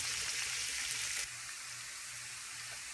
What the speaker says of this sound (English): we're just going to saute this until it gets a little translucent